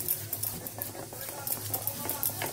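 Fish is worked by hand with mustard oil, yogurt and spices, giving close, wet squelching and patting sounds in quick, uneven bursts.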